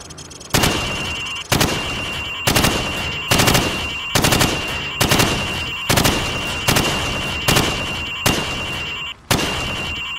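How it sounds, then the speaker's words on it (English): Rifle fire aimed at pop-up targets behind wood in Call of Duty 4: Modern Warfare, about ten loud, evenly spaced single shots ringing out with a steady background tone between them. "I want you to shoot the targets through the wood"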